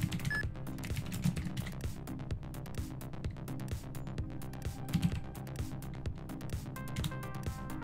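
Quick, uneven clatter of keys on a computer keyboard, close and continuous, with short pauses and a few heavier strokes, entering commands in the hacking game Hacknet; no voices.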